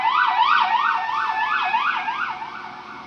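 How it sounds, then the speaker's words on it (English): Emergency vehicle sirens wailing in a steady rising-and-falling pattern, clear and fairly loud, slowly fading over a few seconds with no talk. "Excuse the sirens too."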